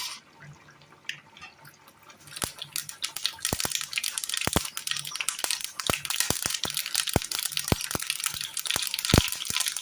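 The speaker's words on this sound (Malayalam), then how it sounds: "എണ്ണയിലേക്ക് കടുകിടാം." Mustard seeds crackle in hot oil in a pan, with sharp irregular pops that begin after a quiet couple of seconds and grow denser, close and crisp, with no talking.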